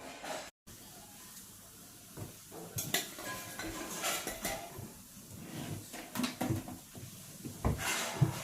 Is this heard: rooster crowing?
no